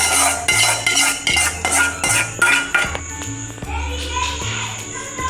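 Potato paratha filling with garlic and masala being mixed by hand in a metal bowl, with repeated clinks and scrapes of a utensil against the dish in a steady rhythm, close and fairly loud, with faint background voices.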